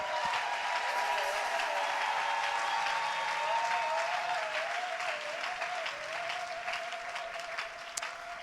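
A church congregation applauds through a French-language worship service, a loud, dense wash of clapping from many hands that fades slightly toward the end, with a sustained tone running underneath.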